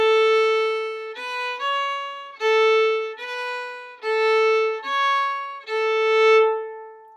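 Irish hornpipe Britches Full of Stitches, first phrase, played alone on a string instrument: eight clear sustained melody notes in a lilting rhythm, close and steady in volume, with no talking.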